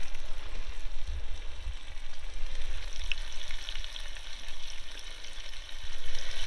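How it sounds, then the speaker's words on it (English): Steady, close sizzling of squid frying in a hot pan, a continuous crackling hiss with no voices over it. "Oh, it's sizzling, that's good."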